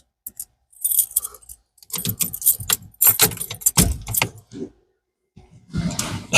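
A bunch of keys jangles and rattles in several separate bursts with short quiet gaps between them, close by and fairly loud, while someone works on a 1983 Mustang GT.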